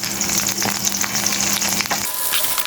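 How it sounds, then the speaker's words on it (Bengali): Spices with green chilli, ginger and garlic frying for a fish curry, a loud continuous close sizzle with scattered stirring scrapes and crackles throughout. "মশলাটাকে আমি একটু কষিয়ে নিব।"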